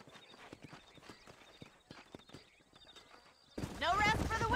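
Horse hooves clip-clopping in Red Dead Redemption, a run of sharp, evenly spaced hoof strikes close by, then a louder burst of voice or whinny-like sound swells over them near the end.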